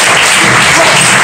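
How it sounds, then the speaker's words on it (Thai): Loud, dense applause from an audience fills the whole moment, a steady wash of clapping close by with no pauses. "ได้ภาพมาก็ปรบมือดังๆให้ท่านด้วยแล้วกัน"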